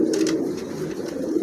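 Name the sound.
pigeon cooing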